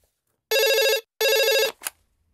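Telephone ringback tone after a call is dialed, heard as two loud, even electronic rings with a short gap between them and a brief chirp after, with no one speaking.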